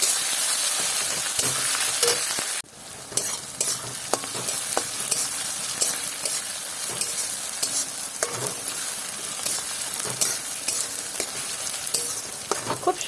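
Onions frying and being stirred in a pan for a Bengali coconut chicken dish, with steady close sizzling and repeated scraping stirs, a short quiet break near the start, and no talking.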